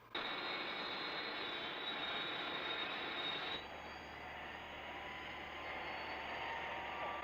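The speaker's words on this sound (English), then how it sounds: "There must be an aircraft in the vicinity." A steady aircraft engine drones loudly and continuously, shifting in tone partway through as it passes, with no voices.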